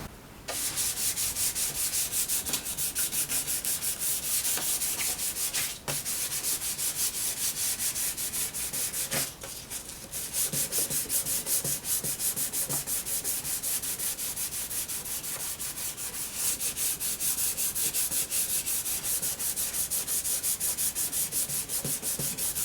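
Wood being hand sanded with loose sandpaper, held without a block, while refinishing a piece: a steady, close, scratchy rubbing that runs continuously with two brief pauses.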